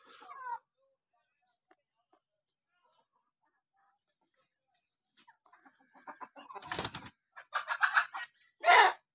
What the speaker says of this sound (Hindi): मुर्गियां जो है ना हमारी आटा ये देखें खाने के लिए आ रही हैं